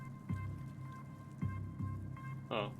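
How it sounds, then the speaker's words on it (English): Rain falling in a video game, soft drops and patters with a few distinct splashy hits over a quiet tonal game background, faint and close. "I think it was just the rain."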